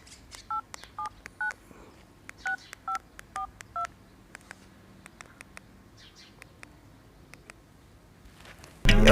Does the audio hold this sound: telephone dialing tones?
yes